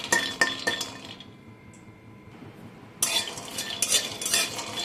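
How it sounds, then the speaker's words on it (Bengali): Raw peanuts stirred and fried in a pan, with scraping bursts of a utensil against metal at the start and again near the end, separated by a quieter lull of faint sizzling. "বাদামগুলোকে একটু নাড়াচাড়া করে ভেজে নিতে হবে"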